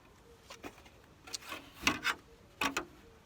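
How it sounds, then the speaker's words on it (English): An oscillating cutter buzzes through an RV roof opening in a handful of short, close bursts, separated by brief pauses, over a quiet background. "I'm going to use my oscillating cutter to cut that off."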